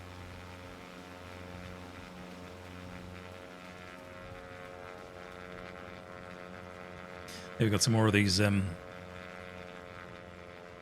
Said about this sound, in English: plane's loud.